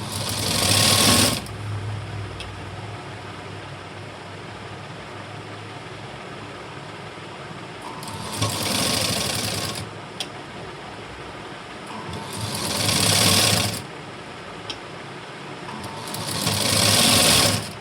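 A sewing machine stitches a hand-stitch-style strip onto a blouse neckline in four loud, close bursts of rapid whirring, each a second or two long, separated by quiet pauses with faint background hum.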